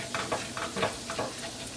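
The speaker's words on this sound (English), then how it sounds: "You have to continuously stirring it so it's not going to make a lot of lumps" Flour roux stirred in a pan, a spoon scraping in rhythmic strokes over a faint sizzle, close and steady.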